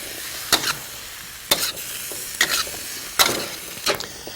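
Zucchinis and tomatoes cooking in a wok, a bright continuous sizzle broken by several sharp scraping stirs, fairly loud and close.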